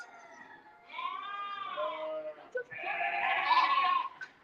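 Sheep bleat during a round-up at a shearing day, two or three drawn-out, wavering calls close by, with a short gap between them and faint background noise.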